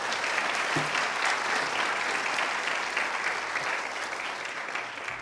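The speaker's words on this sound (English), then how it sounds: "why the people in Dr. Phil are clapping for this lady?" A Dr. Phil studio audience applauds in a sustained, even wash of clapping that holds steady and fades slightly toward the end.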